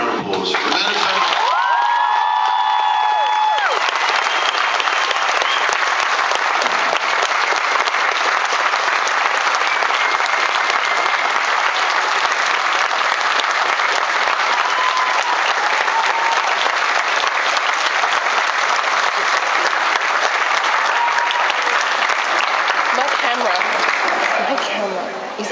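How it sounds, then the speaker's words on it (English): A convention audience gives Amanda Tapping a huge round of applause at an expo panel in Melbourne, with loud, dense clapping sustained throughout and a few cheers and whoops near the start. "If I can have a huge round of applause for Amanda."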